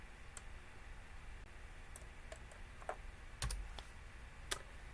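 A command typed on a computer keyboard while setting up a Minecraft Bedrock server: a handful of sparse, quiet key clicks in an irregular rhythm, with a couple of louder taps near the end, over faint room hum.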